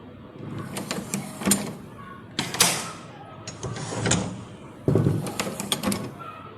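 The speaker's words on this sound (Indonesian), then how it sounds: "Ada suara pintu yang dipaksa dibuka." A door in a boarding-house room is forced open: repeated loud rattling and banging bursts, several separate shoves with short pauses between them, close by.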